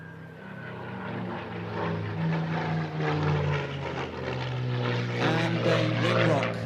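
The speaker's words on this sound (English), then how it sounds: "Listen to this beautiful Merlin engine again." A Supermarine Spitfire's Merlin engine roars at an airshow as the fighter comes out of a steep dive, a loud rising drone with shifting pitch that swells toward the end.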